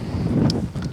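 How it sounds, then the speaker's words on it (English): Gusty wind buffets the microphone in a low, continuous rumble, with faint rustling on top. "Oh, is it ever windy?"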